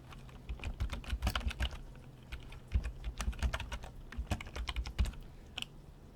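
Someone types on a computer keyboard while working in MS Word, producing uneven, close clatters of keystrokes in quick clusters with short gaps.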